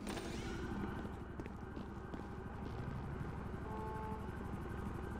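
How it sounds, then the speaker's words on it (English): Helicopter in a police roleplay video game passing overhead, a rapid rhythmic rotor thump throughout, fairly faint and distant, mixed with other game noise. "I hear the heli."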